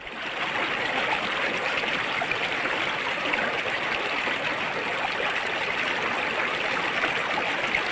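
Clear river water of Sungai Kasih flows in a steady, unbroken rush that stays even in loudness throughout, with no voices.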